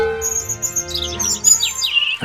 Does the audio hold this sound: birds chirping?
yes